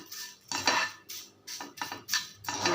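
Horse gram dry-roasting in a pan without oil, rattling and crackling as a spatula tosses it in quick repeated bursts, close and bright.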